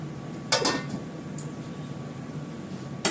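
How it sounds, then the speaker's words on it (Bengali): A metal lid set on a cooking pot of simmering bottle gourd in a home kitchen: a few faint, sharp clinks and a short clatter over a low, steady background hum. "একটু ঢাকা দিয়ে দিই এটা।"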